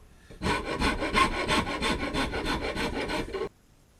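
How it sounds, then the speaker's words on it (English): A rasp rough-shaping a hardwood jerkbait lure master, with about a dozen quick rhythmic rasping strokes in steady succession, close and fairly loud, then stopping abruptly. "I'm now more or less finished with the rough shaping of the jerkbait master with the rasp"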